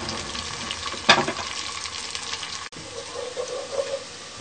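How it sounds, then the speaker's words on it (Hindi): Onions frying in oil for Pakistani daal mash, a close, steady sizzle with a sharp clatter early on and a brief cut partway, then continued crackling. "अब हम इसमें प्याज डालेंगे। प्याज को हम ब्राउन करेंगे।"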